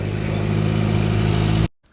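A tractor engine running steadily at a constant, loud mid-pitched drone up close outdoors while cleaning up after power-line work, then cutting off abruptly into near silence.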